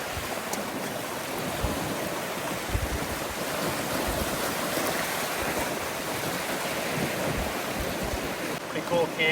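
Strong headwind blows across the Salmon River, buffeting the microphone with steady rushing noise over the flowing water, loud and unbroken for the whole stretch.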